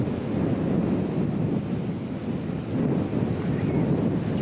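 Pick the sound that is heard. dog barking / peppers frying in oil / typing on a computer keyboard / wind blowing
wind blowing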